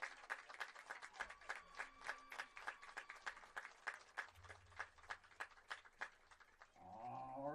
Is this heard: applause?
yes